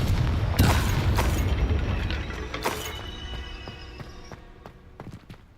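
Booming blast and shattering impacts from a Confringo fire curse in Hogwarts Legacy, a loud burst near the start followed by repeated crashes and scattered debris clatter fading over several seconds.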